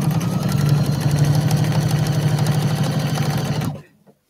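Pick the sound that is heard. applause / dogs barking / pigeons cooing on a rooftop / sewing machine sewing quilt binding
sewing machine sewing quilt binding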